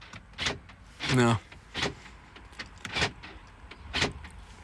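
Power windows whir closed on a Saab 9-3 Aero estate with a 1.9 TTiD twin-turbo engine as it locks, several short motor runs and clicks close by, with someone talking briefly between them.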